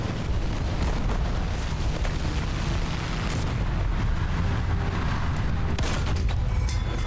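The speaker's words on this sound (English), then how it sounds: "Missile hit, come on." Missile strike and explosion in Call of Duty: Black Ops 6, a dense, continuous roar of blasts and gunfire-like booms filling the whole stretch, loud and close with no voices.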